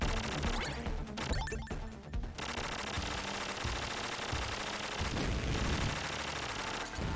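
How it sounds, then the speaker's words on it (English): Rapid game gunfire and flamethrower blasts in Contra Hard Corps, a dense, continuous barrage of crackling shots and roaring bursts with crashes and explosions layered over driving game music, loud and unbroken throughout. "you can just use the flamethrower and just keep up a steady supply of pressure or fire on them"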